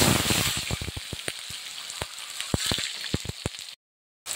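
Whole spices with cinnamon and a pinch of asafoetida hiss and crackle in hot oil, steady sizzling broken by sharp spoon taps against the pan, then a sudden stop into silence near the end.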